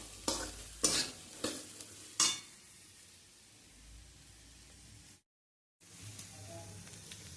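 Chickpeas or Maggi noodles frying in a pan, a steady soft sizzle broken by several loud scraping stirs early on and a brief dropout of silence near the end.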